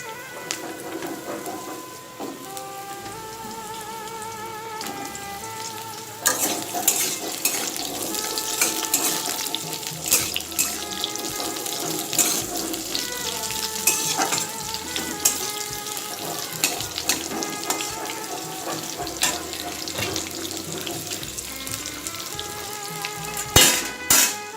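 Potato pieces fry and get stirred in hot oil for a Bengali bottle gourd greens (lau shak) dish: a steady close sizzle with scraping stirs, layered over soft background music.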